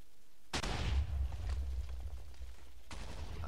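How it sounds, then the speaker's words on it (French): A Minecraft cannon shot bursts with a sudden loud boom followed by a rumbling tail, then a second sharper blast near the end, both fairly close in a game setting with no talk. "on se dit adieu sur ce joli coup de canon"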